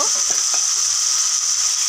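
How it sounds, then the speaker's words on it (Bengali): Fried soybean chunks sizzle loudly and steadily as they are sautéed in spice masala, with light stirring scrapes beneath the hiss and no talking. "এতে এবার এই সয়াবিন ভাজাটাও দিয়ে দেব,"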